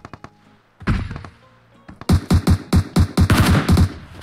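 Gunfire in PUBG Mobile: a few sharp single shots, a pause, then a fast run of loud, evenly spaced shots from close by.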